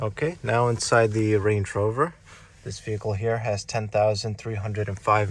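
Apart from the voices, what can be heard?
None of the usual background noises is heard.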